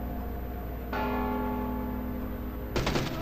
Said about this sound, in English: It's a bell ringer for some reason.